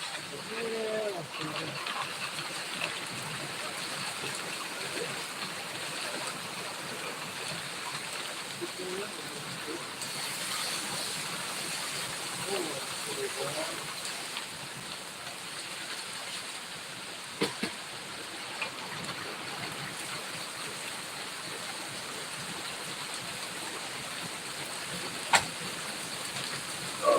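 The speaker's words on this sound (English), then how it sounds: "Turn the camera around now to check out the rain." Heavy thunderstorm rain pours outdoors at a gold prospecting site, a constant broad hiss of falling water with occasional louder drips or knocks, while people talk faintly beneath it.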